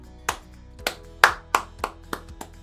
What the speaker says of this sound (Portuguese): Vai lá, aplaude, pode aplaudir.